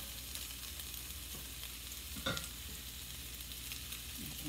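Pork and sausage frying in a pan with peppers, a continuous soft sizzle with one brief stirring scrape partway through, close and fairly quiet.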